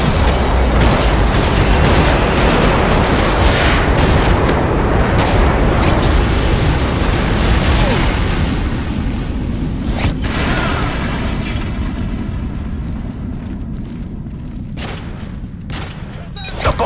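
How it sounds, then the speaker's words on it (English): A MOAB bomb goes off in a Call of Duty match, a huge continuous rumbling blast that roars loudly and slowly fades over many seconds, with a game announcer voice heard amid it. "Friendly MOAB incoming."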